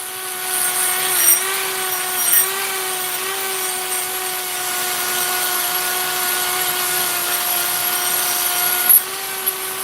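A rotary power carver fitted with a worn Kutzall burr grinds into sappy wood, giving a steady high motor whine with a few brief bumps where the burr catches.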